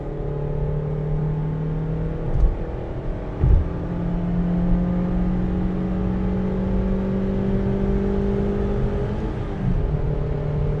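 A 2025 Honda Amaze accelerating on a highway, its steady engine drone rising in pitch under power with road and wind noise, close and continuous, a couple of brief thumps along the way.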